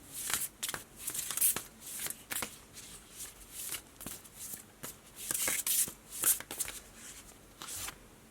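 Oracle cards are shuffled by hand in a repeated series of crisp riffling bursts and soft slaps, close and fairly loud, with short pauses between rounds.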